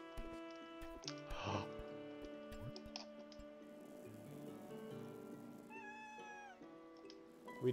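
A cat meowing in a mountain-climbing video game, short rising mews near the start and a higher cry toward the end, set over steady tonal game music with light ticking.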